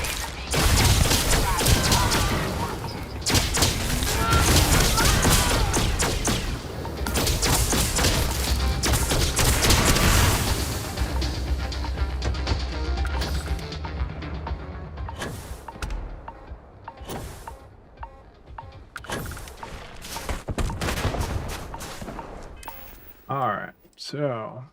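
Gunfire in the video game Starfield, dense rapid bursts of shots and thuds that go on loudly for about ten seconds, then thin into scattered single shots, with a voice talking over the fighting.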